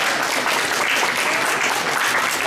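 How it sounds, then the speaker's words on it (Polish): A hall full of people applauds duet winners at a carol and pastoral song festival in Dębno, a steady wash of many hands clapping evenly for a few seconds. "Wielkie brawa."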